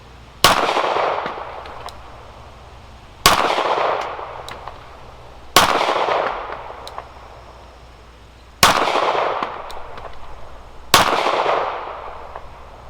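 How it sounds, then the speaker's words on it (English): Five loud, sharp pistol shots from a Nighthawk T4 returned from the factory, fired with hand loads at an outdoor range, spaced about two to three seconds apart, each ringing off in a brief echo. "First shots of the revised T4."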